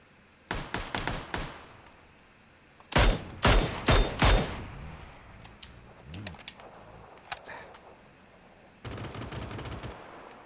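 Gunfire in the PUBG video game rings out in sharp, rapid bursts: a quick string of shots, then a louder cluster of several cracks, followed by sparse, fainter shots against a low background hiss.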